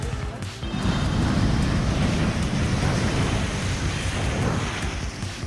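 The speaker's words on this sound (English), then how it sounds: "large waves crossed parts of the coastal road in West Bengal." Large waves from Cyclone Yas wash across a coastal road in West Bengal, a loud continuous crashing roar mixed with gusting wind buffeting the microphone, sustained for several seconds.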